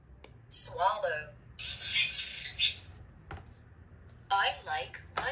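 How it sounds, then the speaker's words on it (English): A swallow's quick twittering calls come in two bursts of rapid high chirps with a gap between, fairly close and light, while a voice is briefly heard. "Swallow."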